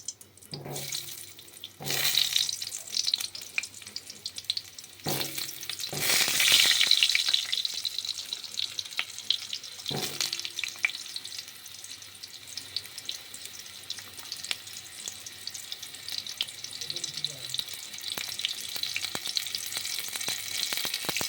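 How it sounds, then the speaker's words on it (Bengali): Pointed gourd (potol), rubbed with salt and turmeric, frying in hot oil in a kadai: a steady hiss and crackle, with a few sharp bursts as pieces drop in or get stirred, then a fainter continuous sizzle. "আমি আগে থেকে নুন হলদি মাখিয়ে দিয়েছিলাম পটলগুলো একটু ভেজে নেব।"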